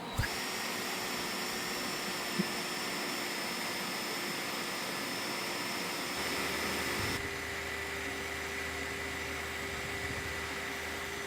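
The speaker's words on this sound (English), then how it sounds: "Well, I got my big fan running." A big electric fan runs in a garage beside an 1985 Chevy C10 pickup, giving a steady close whooshing drone with a faint high whine and a brief change in tone partway through, with no speech.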